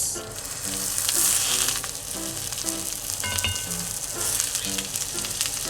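Fried tofu pouches stuffed with egg and cheese sizzle in a frying pan, a steady close crackle with occasional pops and soft scraping as they are turned to brown each side.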